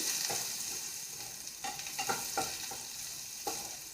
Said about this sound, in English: I have chopped around 10 to 12 cloves of garlic, so I'm going to add that and going to saute them properly.